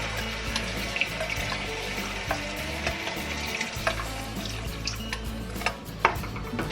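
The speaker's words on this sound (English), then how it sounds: "Adding some water" Water pours into a pot of seasoned chicken cooking for soup, splashing and sizzling against the hot contents with clinks and stirring, close and steady throughout.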